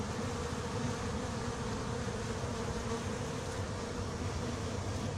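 Honey bees fly at a hive entrance, making a dense, continuous buzzing hum that stays steady and close throughout, with no voices.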